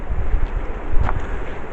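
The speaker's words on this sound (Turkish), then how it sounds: "Gerçekten çok bir rüzgar var." Strong wind buffets the microphone in low, uneven rumbling gusts, loud and close, with no voices.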